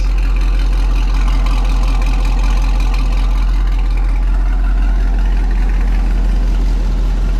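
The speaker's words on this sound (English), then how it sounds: "the idle, I mean, even warm, it's loud." Camaro SS with TSP headers and Corsa exhaust, a bolt-on six-speed manual car, idling warm with a loud, steady, deep rumble close to the microphone, no one talking.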